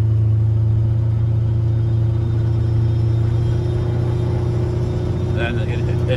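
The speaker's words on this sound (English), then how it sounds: "Then it does second and third quickly, and then right into fourth once you get to about 40 miles an hour." Steady low engine rumble from an LT1 V8 in a C3 Corvette with automatic transmission, accelerating through its gears on a road, loud and continuous with someone talking over it.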